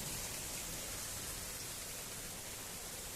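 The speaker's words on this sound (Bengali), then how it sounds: "কি পরিমাণ তাহলে জলটা হচ্ছে দেখো, ভীষণ জল হচ্ছে ভীষণ।" Heavy rain pours steadily onto a flooded courtyard, balcony and street, a dense, continuous hiss that stays loud and even throughout with no voices.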